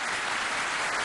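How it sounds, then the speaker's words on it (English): Applause in the Israeli Knesset, a dense, steady clapping from a large chamber audience filling the moment with no voices above it. "The Israelis applauded"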